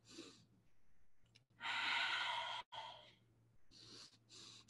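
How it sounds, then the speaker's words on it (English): Two deep breaths drawn in unison by a group, each a loud, broad rush of air lasting about a second, with softer exhalations and breathy sighs between them, alone with no talk. "So I want you to take a 2 deep breaths together."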